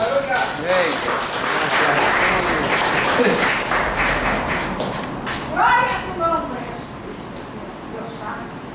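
A church congregation claps loudly at a service, a dense burst of applause and shouts that swells then fades, with a preacher speaking over the crowd.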